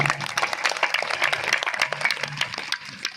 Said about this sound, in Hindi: एक बार हमारे काले भैया के लिए जोरदार ताली हो जाए